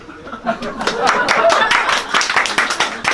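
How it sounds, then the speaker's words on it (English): A comedy club audience in Shanghai gives a short burst of applause, with scattered claps and a few chuckles swelling then thinning out. "Short round of applause if you like to masturbate"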